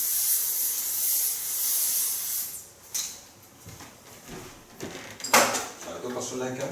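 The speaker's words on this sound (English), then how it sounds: "Now I'm going to nurse the hair with a gloss spray." Gloss spray misted onto hair in a salon, a breathy hiss at the start followed by a couple of shorter spritzes later, with light handling noises and talk around them.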